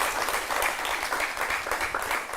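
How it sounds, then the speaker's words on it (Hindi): Audience applause greeting a guest, BJP Rajya Sabha MP Sudhanshu Trivedi, at a televised event: dense, steady clapping from a crowd, fairly loud and continuous throughout. "जोरदार तालियों के साथ उनका स्वागत करें"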